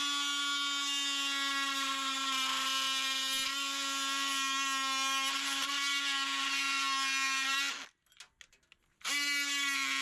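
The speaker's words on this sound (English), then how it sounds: "for that I'm going to use my oscillating tool" An oscillating multi-tool cuts through a plastic channel drain outlet, a loud, steady high-pitched buzzing whine held for several seconds, then a brief pause before the tool starts up again.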